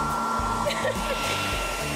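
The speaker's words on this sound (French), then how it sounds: "Allume le sèche-cheveux." A hair dryer running, blowing on fabric scraps tied to logs to fake a campfire, a loud steady whir with a constant tone, alone without speech.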